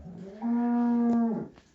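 A cow in a cowshed lets out one long, loud, close moo that rises, holds steady and then fades away.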